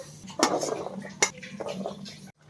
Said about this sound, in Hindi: अब इसको हम दूसरे बर्तन में पानी से अलग कर देते हैं।